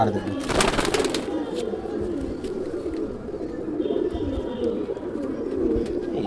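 Madrasi pigeons cooing in a continuous low murmur, several birds nearby, with brief flapping and a voice at moments.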